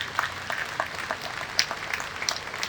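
A church congregation applauds during a sermon, scattered hand claps at a distance, fairly faint and uneven over about three seconds.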